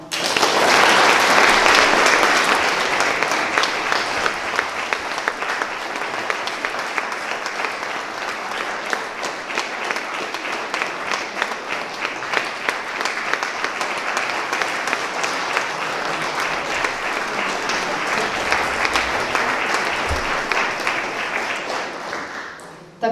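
A long, steady wave of audience applause greets singers on stage at a municipal ceremony in Brežice. It rises strongly at first, then holds a dense, even clapping for over twenty seconds before stopping abruptly.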